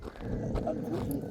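A pet dog on a seaside walk gives a short growly bark-like vocalisation up close, with people's voices in the background.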